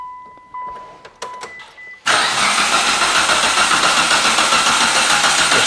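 Mitsubishi Lancer found abandoned in a storage unit: a few short clicks and brief whirs, then the engine cranks loudly with a rapid rhythmic churning that continues steadily to the end.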